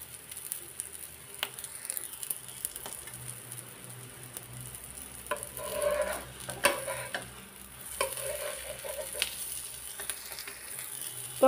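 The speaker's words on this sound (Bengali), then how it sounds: "ওই যে ডিমটা আমি আবার উল্টিয়ে নিলাম, এরকম গোল্ডেন কালার করে ভাজি করতে হবে" A single egg fries in a pan until golden, a soft, faint sizzle broken by occasional scrapes and clatters of the utensil nearby, with no voices.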